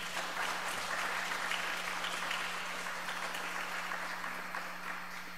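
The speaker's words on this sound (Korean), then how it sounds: "박수로 환영해 주시기 바랍니다." An audience at an indoor talk applauds to welcome a presenter, a dense, sustained clapping that fades slightly at the end over a faint steady hum.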